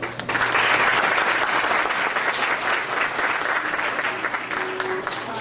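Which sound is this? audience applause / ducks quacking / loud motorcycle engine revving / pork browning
audience applause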